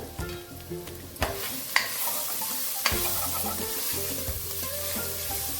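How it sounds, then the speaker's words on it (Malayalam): Onions fry and sizzle in a pan for coconut chicken curry while a spoon stirs them, giving a steady close hiss broken by a few sharp clanks and scraping strokes. "ഒന്ന് ഇളക്കി കൊടുക്കാം പിന്നെ ഇതൊന്ന് അടച്ചു വയ്ക്കാം"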